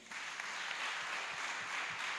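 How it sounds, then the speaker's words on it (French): Applause at a Women's Day celebration in a town hall, a steady, even patter of many hands that stays moderately faint and distant. "Chère maman, applaudissez pour vous-même."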